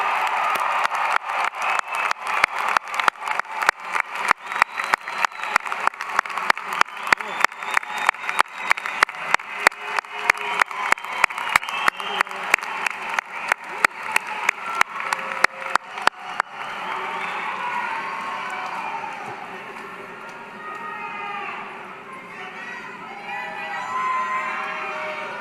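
A commencement crowd at UCF gives rhythmic, synchronized clapping for about sixteen seconds, then dissolves into looser cheering, whoops and crowd noise in a large venue.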